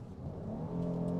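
A Kia Carnival SX with a 3.5-liter engine and automatic transmission builds revs as it accelerates, the rising engine drone growing steadily louder over this short moment.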